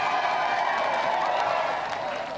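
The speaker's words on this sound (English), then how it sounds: "let's give another round of applause for our challenger" A studio audience on a game show applauds the challenger in a steady, moderately loud wash of clapping that tapers slightly toward the end.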